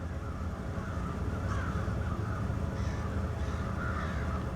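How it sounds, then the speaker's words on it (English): A few crows caw in short bursts over a constant low rumble near a rail yard in Waterloo, Iowa, calls coming every second or so from a little distance. "Yeah, I think they got a crow problem here in Waterloo."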